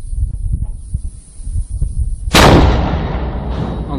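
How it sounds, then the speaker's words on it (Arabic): A homemade cannon fires a shell near Jabal al-Zawiya: one sudden loud blast cuts through low rumbling background noise, then a long decaying roar trails off over the next seconds. "مدفع جحيم جبل الزاوي"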